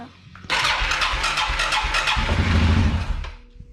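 A Suzuki King Quad 750 ATV engine cranks briefly, then catches and settles into a close, throbbing run. The revs ease off after a few seconds.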